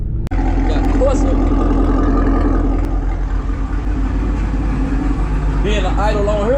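A car engine idles through a Corsa Extreme exhaust, a loud continuous low rumble close by, with people talking over it.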